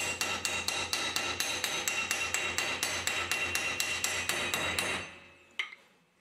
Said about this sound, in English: The finishing touch is then applied by the hammer.